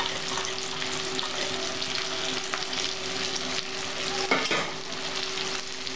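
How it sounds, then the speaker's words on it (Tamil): Onion, green chili and curry leaves frying together in hot oil for an egg fry masala, a steady moderate sizzle with occasional stirring scrapes near the end. "இப்போ எண்ணெய் சூடானதுக்கப்புறம் ஆனியனை போட்டுடலாம்"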